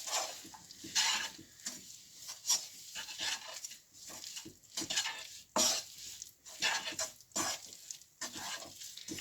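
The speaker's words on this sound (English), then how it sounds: "Give everything a good stir." Vegan curry ingredients are stirred in a pan, giving soft, rhythmic scraping and rubbing strokes with faint sizzling underneath, quiet and close, with no voices.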